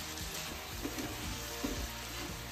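Sweet and sour sauce sizzles quietly in a pan with pork in a stir fry, a soft steady crackle with faint stirring noises.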